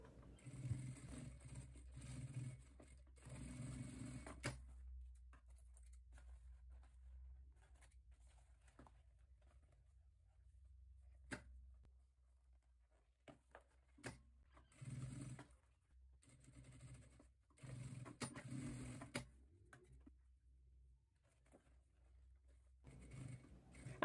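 Sewing machine stitching a seam on a small fabric pouch, faint bursts of rapid mechanical whirring that start and stop in short runs with quiet pauses between them.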